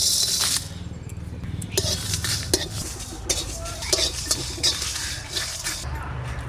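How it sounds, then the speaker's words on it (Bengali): Whole spices fry in a kadai on a lit stove, a constant sizzle under scraping and clinking as a metal spoon stirs them, with scattered sharp taps against the pan and no talking. "এবার এই মশলাগুলো আমি কড়াইতে দিয়ে ভেজে নেব।"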